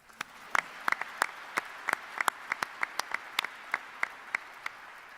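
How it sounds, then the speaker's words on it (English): Sparse applause at a press conference introducing NC State's new men's basketball coach, a few people clapping with distinct, separate, fairly close claps in an uneven rhythm over a quiet room. "We can clap for her, too."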